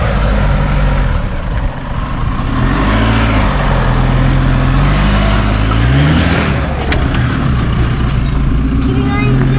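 A Toyota Land Cruiser 200 4WD without a camper trailer grinds up a short rocky hill, its engine droning loud and steady with low gear rumble, rising revs near the end, and voices talking over it.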